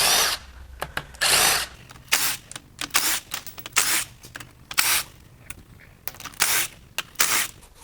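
A power tool removes the passenger side valve cover bolts on a 4.6L Ford DOHC 4V aluminum V8, firing in short repeated close whirring bursts with clinks and pauses between them, and no talking.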